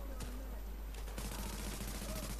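Gunfire from a pistol in the video game The Division, heard as a few sharp bursts amid a busy, noisy game soundscape, with some speech underneath.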